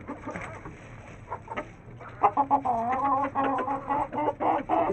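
Hens and roosters cluck close by while being fed, with scattered soft clucks at first and then a busier run of loud, overlapping calls and squawks.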